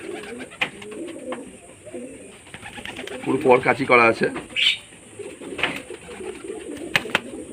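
Old-line Madras pigeons coo in a rising, rolling burst at close range while being held in the hand, with someone talking intermittently around the calls.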